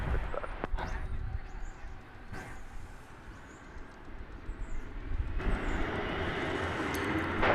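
An airliner takes off at DFW Airport, a broad, steady engine roar heard from a distance that builds toward the end, with brief clunks and faint background noise.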